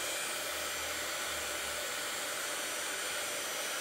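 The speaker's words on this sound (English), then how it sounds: "I'm going to dry that a little bit, I think. I got my hair dryer hooked up here." A hair dryer blows steadily to dry chalk paste on a painted vintage truck, a continuous broadband whoosh that stays loud and even from start to finish with no talking.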